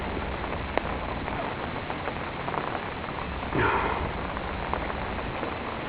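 Steady rain falls on a golf course on a morning walk, a continuous soft hiss of drops on grass with one brief louder rustle midway and no talking.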